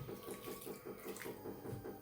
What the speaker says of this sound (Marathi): एवढं पाणी टाकायचं की पोहे व्यवस्थित भिजले पाहिजे